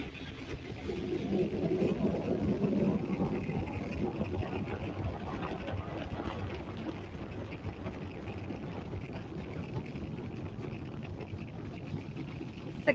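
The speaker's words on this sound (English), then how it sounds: "Successful liftoff from Space Launch Complex 40 in Cape Canaveral, Florida." SpaceX Falcon 9 rocket lifting off from Space Launch Complex 40 at Cape Canaveral, Florida, on the USSF-124 Space Force mission: a steady, distant low rumbling roar that swells early and holds for the whole stretch with no talk over it.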